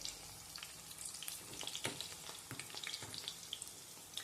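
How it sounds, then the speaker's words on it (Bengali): Pieces of chicken fry in hot oil for chilli chicken over a low flame, giving a steady close crackling sizzle with scattered sharp pops and no voices. "তো এরকম করে আমি আস্তে আস্তে চিকেনগুলোকে ভেজে নেব।"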